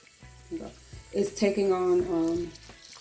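Chili pods fry in hot oil for birria, giving a soft sizzle underneath a person speaking clearly over it.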